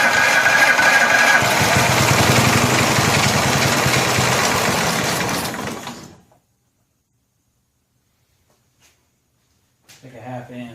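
A vintage Snapper walk-behind mower engine runs loudly and steadily up close, then winds down and cuts out, leaving silence before a brief voice is heard near the end.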